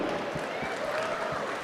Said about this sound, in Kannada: ನಮ್ಮ ಶಶಿ ಸರ್ಗೆ ಜೋರ್ ಚಪ್ಪಾಳೆ ಒಂದು